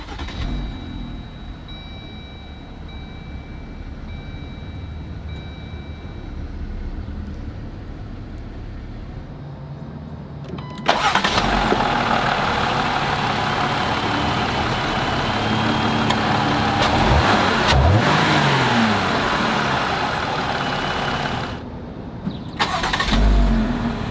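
A 2019 Jeep Wrangler Sport engine cranks via push-button start and catches partway through, then settles into a steady running drone with some revving, close by.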